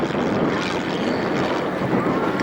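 Engine drone from home-built light aircraft flying a corkscrew pass at an RAF Cosford airshow, one plane inverted while another rolls around its wake; a steady, fairly loud broadband roar holds for the whole stretch.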